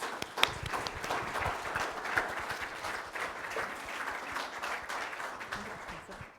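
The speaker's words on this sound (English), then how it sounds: "If we can give them all a round of applause." Applause from an audience at a school career technical education showcase, a dense patter of many hands clapping steadily at moderate volume, with some voices mixed in.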